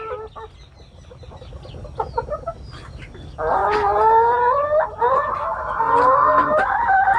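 Egg-laying hens on a small farm in Lam Thamenchai, Korat, Thailand cluck and squawk loudly and close, sparse at first, then a dense overlapping chorus of calls.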